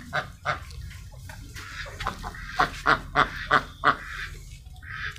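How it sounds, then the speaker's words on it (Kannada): Ducks at an animal rescue centre give a run of loud, nasal honking quacks, closely spaced and rhythmic, with a few scattered calls before and after the main burst. "ಇಲ್ಲೆಲ್ಲ ಬಾತುಕೋಳಿ ಇದೆ ನೋಡಿ."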